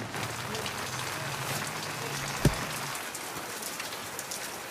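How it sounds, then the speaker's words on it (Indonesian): Heavy rain pours down steadily in a dense, even hiss, with a single dull thump partway through and no voices. "Hujannya makin deras."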